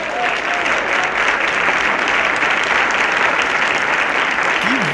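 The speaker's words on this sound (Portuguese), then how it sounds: "vou até bater uma salva de palmas aqui pro Jones" A round of applause plays steadily and evenly at moderate loudness from start to finish, a dense wash of many clapping hands without a break.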